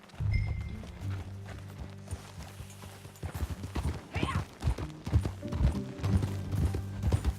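Horse hooves clip-clop on the ground during a ride in Red Dead Redemption 2, a quiet walking rhythm that picks up into a quicker, louder gait over a low musical drone.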